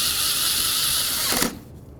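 Ratchet or power driver snugging up latch bolts on a Jeep Liberty door, with a dense, rapid mechanical whirring that runs steadily close by, then stops abruptly.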